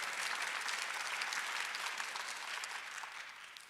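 Congregation applauding during a Sunday worship service at a Korean church, a continuous even burst of many hands clapping across the hall, fading slightly toward the end.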